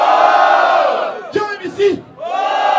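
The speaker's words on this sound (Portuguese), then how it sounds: "Barulho, quem gostou da rima do freestyle do MC Ibrahim?" A live crowd at a freestyle rap battle in São Gonçalo, 2017, roars and cheers loudly and continuously, briefly dipping as a few shouted whoops cut through, then swelling back up.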